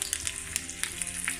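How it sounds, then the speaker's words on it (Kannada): Curry leaves crackle and sizzle in hot oil with fenugreek seeds and onion, tempering for a Mangalorean silver fish curry; a steady close frying hiss with sharp pops scattered throughout, no voices. "ಅಂಚನೆ ಒಂತ ಒಗ್ಗರಣೆ ಸೊಪ್ಪು ಪಾಡ್ಗ"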